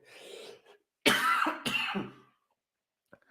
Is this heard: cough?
yes